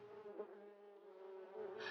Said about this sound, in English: A swarm of bees flew out.